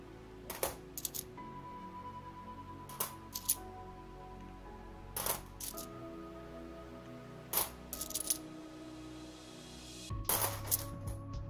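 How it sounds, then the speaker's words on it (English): Commemorative €2 euro coins clatter onto a hard surface in about five separate drops spread a few seconds apart, each a sharp metallic hit with a brief ringing tail over a quiet background. "Whoops, dropping coins."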